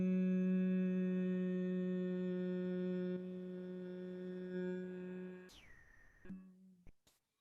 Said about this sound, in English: here we do the sound hum